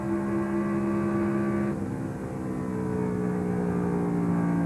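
Onboard the 1999 NASCAR Craftsman Truck Series race at Texas, a truck engine drones steadily and loudly, its pitch dropping as the throttle eases off about halfway through, then settling into a sustained roar.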